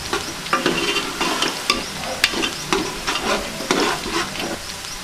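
Whole masoor lentils are stirred in a hot pot with oil, giving a steady close sizzle broken by repeated scraping, clattering strokes of the spoon at an uneven rhythm.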